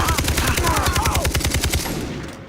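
Rapid bursts of automatic gunfire in the video game Far Cry 3 rattle continuously, close and loud, with a faint voice underneath before the shooting fades.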